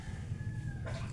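A rooster crows once, close and fairly loud, its drawn-out call over low background rumble, with a brief change in tone near the end.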